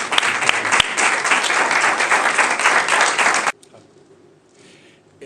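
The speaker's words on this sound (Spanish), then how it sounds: "Un aplauso, no que menos." Audience applause at a public forum on local government reform, loud and dense for about three and a half seconds before stopping abruptly, leaving a quiet room.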